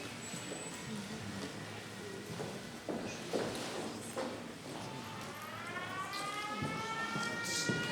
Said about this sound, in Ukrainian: Шановні глядачі оголошено сигнал повітряна тривога.